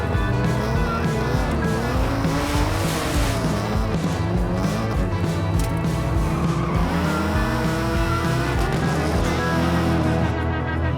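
Volvo S40 banger rally car racing on a dusty stage, the engine revving hard and shifting up and down close by, with tires skidding and squealing through corners, loud and continuous.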